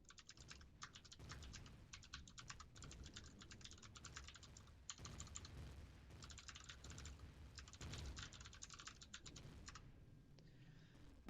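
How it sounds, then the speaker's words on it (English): Fingers type on a computer keyboard in quick, irregular bursts of close clicking keystrokes with short pauses between runs, fairly quiet overall. "I'm going to answer it by typing."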